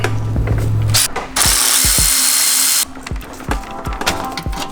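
Close, loud ratchet clicking comes in quick runs as a ratchet wrench loosens the intercooler couplers on an EcoBoost Mustang. A short burst of power-tool whir breaks in partway through, then the rapid clicking returns, with no talk.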